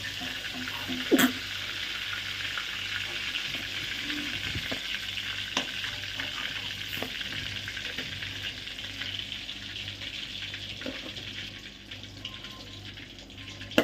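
Pieces of fish, just turned over, fry in hot oil with a continuous sizzling hiss that holds steady throughout, broken by a few faint taps of a utensil close by.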